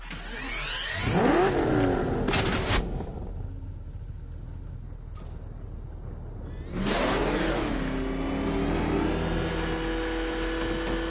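Batmobile engine from Batman: Arkham Knight revving hard in two loud bursts with rising whine, separated by a quieter gap, then settling into a sustained rumbling idle near the end.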